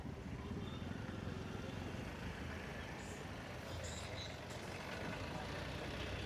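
Trucks and other vehicles roll slowly over a broken road in the Sahibabad industrial area of Ghaziabad, producing a steady, dense engine rumble and road noise with no pauses.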